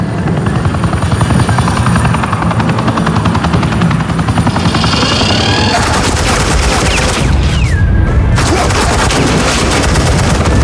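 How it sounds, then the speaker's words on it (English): Dense suppressing gunfire in a Batman Telltale game scene, continuous and loud, layered with a droning helicopter-like roar and scattered booms throughout. "suppressing fire."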